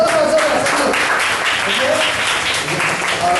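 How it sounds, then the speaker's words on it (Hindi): A church congregation in Vasai applauding, a dense, continuous wash of clapping that stays loud from start to finish, with voices mixed into it. "आइए जोरदार तालियां बजाएं प्रभु के लिए।"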